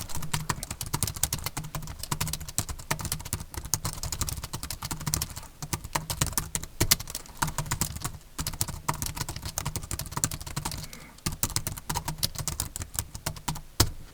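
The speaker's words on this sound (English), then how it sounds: "The sound is a mix of clacky plastic and some dampening, so it's okay if I type softly" Typing on a compact portable keyboard with clacky, partly dampened plastic keys, used with a Boox Note Max tablet; a steady, fairly close run of rapid keystrokes with brief pauses.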